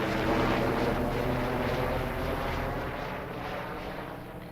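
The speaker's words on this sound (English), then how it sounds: "We just wait for the chopper to go through." A helicopter passes over a farm in Farming Simulator, a steady, broad whirring rumble that holds loud at first, then slowly fades as it moves off.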